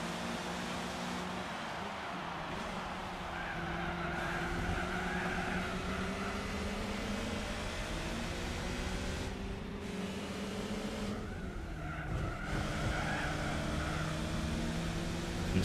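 Racing engines in Gran Turismo 4 during a British lightweight series race with a Lotus Elan, a steady droning whine of several cars with rising and falling pitch as gears change, moderately loud and without talk.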